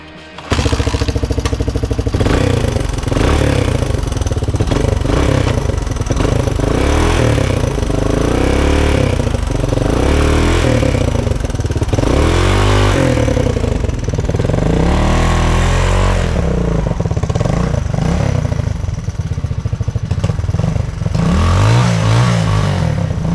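A loud Honda Enduro motorcycle engine runs steadily throughout after water was cleared from the fuel, with rhythmic revving that rises and falls in pitch, close by and with no talking.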